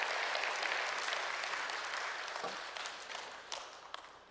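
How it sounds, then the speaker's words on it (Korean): Church congregation applauding during a sermon, a broad wash of many hands that starts full and slowly fades, with a few sharper claps standing out near the end. "박수 쳐도 괜찮아요."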